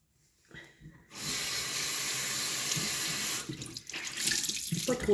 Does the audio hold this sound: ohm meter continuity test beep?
no